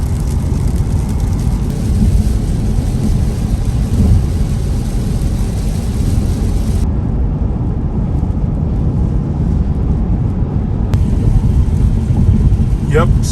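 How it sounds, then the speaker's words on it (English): Steady, dense rain hisses and drums continuously on a Tesla Model Y driving through a gorge, blended with a low rumbling road noise, loud and unbroken throughout. "Now it's raining."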